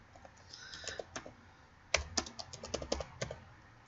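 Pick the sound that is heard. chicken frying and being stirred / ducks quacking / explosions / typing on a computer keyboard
typing on a computer keyboard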